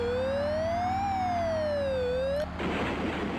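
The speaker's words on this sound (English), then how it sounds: "Oh, police car." Police car siren in the Test Drive 2 racing game, a loud synthetic wailing tone rising and falling slowly, then cut off abruptly by a burst of hissing noise.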